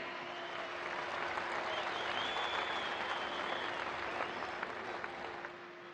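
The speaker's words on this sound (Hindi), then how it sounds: "आप सब तालियों की करतल ध्वनि से माननीय प्रधानमंत्री जी का हार्दिक स्वागत करें" Steady, dense applause from a large audience welcoming India's Prime Minister at a public event in Jammu and Kashmir fills the whole stretch, sustained and even, fading slightly toward the end.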